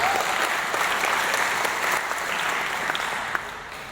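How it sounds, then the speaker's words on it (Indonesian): A lively round of applause from the audience at a lecture held at a madrasah, sustained, dense and loud throughout, tapering slightly toward the end. "Tepuk tangan yang meriah, Pak."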